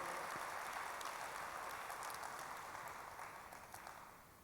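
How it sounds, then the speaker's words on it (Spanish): Church congregation applauding loudly at a worship service in Panama, a dense steady wash of clapping that fades slightly toward the end, with no talk over it. "¿Por qué no damos un fuerte aplauso a Él?"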